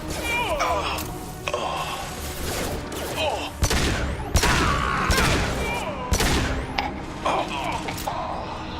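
Sci-fi gunfire in the Mass Effect 2 video game, a steady run of crackling shots and sharp impacts, with game voice chatter mixed in.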